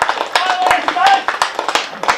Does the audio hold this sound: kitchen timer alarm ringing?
no